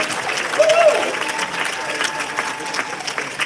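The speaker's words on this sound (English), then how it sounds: "Big round of applause, ladies and gentlemen" An audience at a dance show claps together in a sustained round of applause, moderately loud and close, with a brief whistle or cheer rising early and faint voices underneath.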